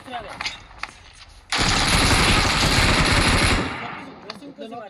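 Sustained automatic gunfire in the BGMI battle royale game bursts in loudly for about two seconds of rapid shots, preceded and followed by softer game sounds and speech.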